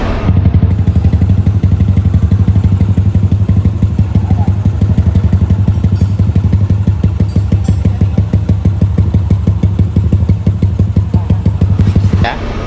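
A Honda PCX scooter engine with a bore-up kit idles steadily and loudly up close, a constant low throbbing rumble with rattly clatter, running for about twelve seconds before cutting off.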